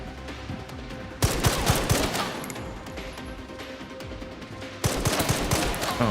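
Video game gunfire, with dense rapid bursts of shots crackling close and loud in two waves separated by a slightly quieter stretch of continuous firing.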